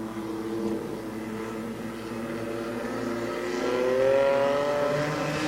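Compact-class race cars at Barberton Raceway taking the green flag for a heat: engines droning and building in pitch as they accelerate, a steady mid-distance roar that swells toward the end.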